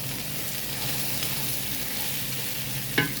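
Carrots being stirred into pancit frying in a pan, a steady sizzle with soft scraping of the stirring, close and continuous, with one brief sharper clink near the end.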